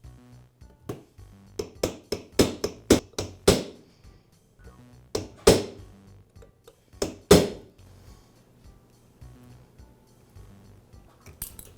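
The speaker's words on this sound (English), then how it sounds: "I'll use a punch to remove the key." A hammer strikes a punch to drive the flywheel key from an Echo trimmer, sharp metallic taps in uneven bursts of several quick blows separated by pauses, close and clear.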